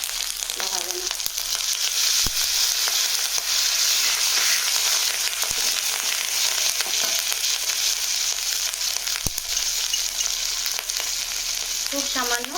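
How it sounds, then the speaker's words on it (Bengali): Ginger paste frying with salt in a pan makes a steady, loud, bright sizzle that runs without a break, with occasional clinks of a spoon stirring. "আদা বাটা লবণ দিয়ে দিচ্ছি লবণটা দিলে এই যে আদাটা চারদিকে লাফাচ্ছে"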